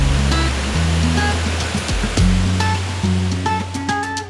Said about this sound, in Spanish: podemos observar ya desde aquí la primera cascada